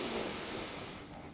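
A deep inhaled breath taken during a morning yoga session, a soft airy hiss that is steady and close for about a second and then fades away, with no talking.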